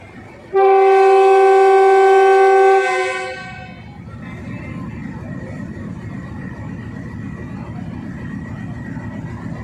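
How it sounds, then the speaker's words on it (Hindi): A loud, sustained passenger train horn blares for a couple of seconds as the Fareed Express departs Lahore Junction, then fades into the steady low rumble and rattle of the train pulling away. "अड़तीस डाउन फ्रीज एक्सप्रेस मूव करते हुए लाहौर जंक्शन से कराची की तरफ।"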